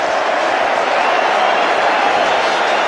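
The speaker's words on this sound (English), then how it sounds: "And the crowd are rising to this too." A cricket crowd at a T20 international during a tense super over roars steadily, a continuous wash of cheering and clapping at full volume with no let-up.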